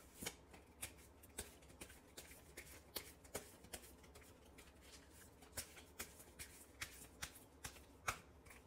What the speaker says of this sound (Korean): 그러면 이 관계에 대해서 조언 카드 한번 뽑아 볼게요